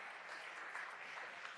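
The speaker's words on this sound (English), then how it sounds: "A big applause for Nikita." Audience applause at a startup pitch competition final in Barcelona, a faint, steady wash of clapping from a distant crowd that holds evenly throughout.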